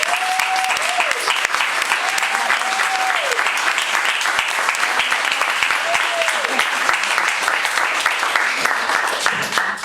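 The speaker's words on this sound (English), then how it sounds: "we have to give a loud round of applause for Ed Schloeman" A loud, sustained round of applause from a large audience at a David Lynch Foundation event, dense clapping that holds steady throughout, with a voice briefly heard over it.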